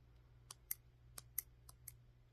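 Scissors snip a craft cuff's knotted thread tails in a series of sharp, quiet clicks, about eight cuts in irregular rhythm close to the microphone.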